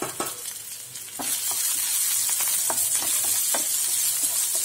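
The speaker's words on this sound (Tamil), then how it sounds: "வதக்கிக்கோங்க." Chopped onions with mustard seeds hit hot oil in a kadai, bursting into a steady, close sizzle punctuated by sharp stirring scrapes and crackles.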